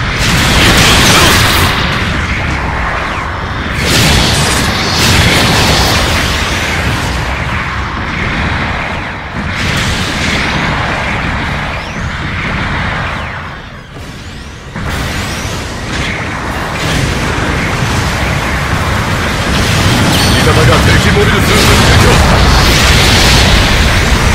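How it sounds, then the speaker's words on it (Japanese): Artillery bombardment in the mecha combat game Gundam Battle Operation 2, a continuous barrage of heavy booming explosions rolling on for over twenty seconds, loud and dense with a brief lull midway. "後方部隊からの砲撃が始まった"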